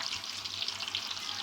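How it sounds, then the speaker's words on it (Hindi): Onions frying in very hot ghee for beef haleem, a steady broadband hiss of sizzling with no break and no voice, moderately quiet. "प्याज मैंने जैसे ही डाले वो फ्राई होना"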